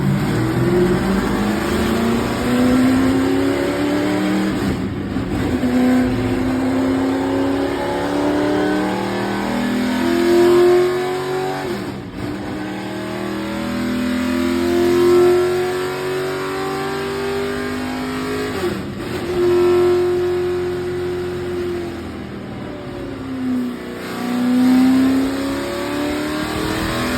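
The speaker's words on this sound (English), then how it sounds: "I wanted the sound of an X pipe because they sound different" Vintage NASCAR Dodge Ram race truck V8 revving hard through an X-pipe exhaust, loud and close, rising and falling through repeated rev sweeps across the whole stretch with brief dips between pulls.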